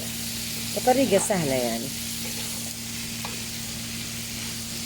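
Chicken livers and gizzards sizzle steadily in a frying pan as they are stirred together, with a brief spoken phrase early on and a low hum running underneath.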